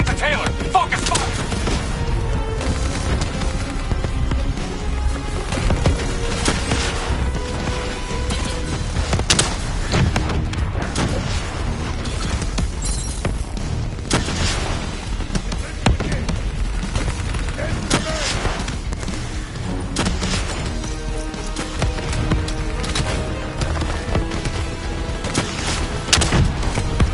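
Gunfire and explosions in a Call of Duty Black Ops 3 boss fight, a dense continuous battle of rapid shots, booms and thuds layered with shouted voices and music throughout.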